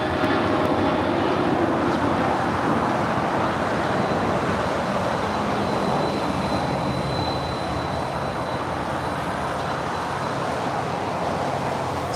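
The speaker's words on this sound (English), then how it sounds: "Just had a UPS 767 coming in from Louisville, Kentucky, going short on us" A UPS Boeing 767 cargo airliner arriving at LAX from Louisville, Kentucky, a loud, steady jet engine roar holding across the whole stretch with no voices over it.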